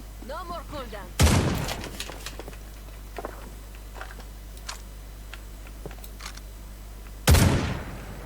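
Two heavy, sharp gunshots boom loud and close in the free-to-play shooter FragPunk, separated by several seconds, with quiet clicks and a brief voice in between.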